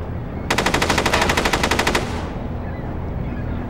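Rapid machine gun fire in the SOCOM U.S. Navy SEALs: Combined Assault video game, a loud sustained burst of evenly spaced shots lasting about a second and a half, then fading background ambience.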